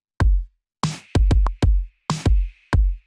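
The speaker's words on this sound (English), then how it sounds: "Then I add some claps." Electronic clap samples in a pop beat, about eight sharp percussive hits with short decays in a loose rhythm, some with a brighter noisy snap, alone and close.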